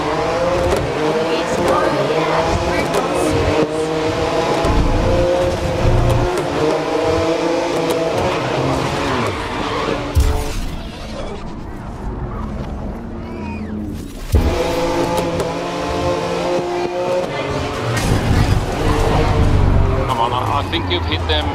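GT race cars launch at a race start in the video game Grid 2019: loud, layered engines rev and roar with brief tire squeals, and a voice talks over the din.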